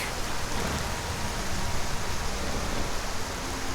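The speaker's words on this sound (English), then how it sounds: "it gets super dark when it's raining." Constant rain at night in the Skyrim video game, a dense even hiss of falling water with no talking, holding at a moderate level throughout.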